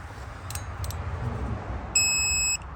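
A digital torque wrench gives a short electronic beep near the end at 30 Nm on a Mercedes Sprinter 2.1L exhaust manifold, a clear steady tone lasting about half a second, with faint chirps earlier over low background noise.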